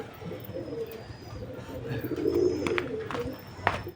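Low, soft pigeon cooing murmurs in a quiet room, with faint background noise and a few light clicks.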